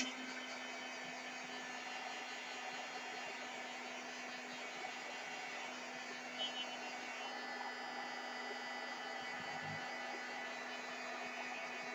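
A hair dryer blows steadily to dry wet pink paint on a peppermint-themed holiday tag, giving a continuous, even whir that stays close and loud throughout with no talking.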